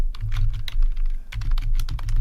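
Rapid, close typing on a computer keyboard while entering text into a Google Doc, with dense clattering keystrokes and a brief pause partway through.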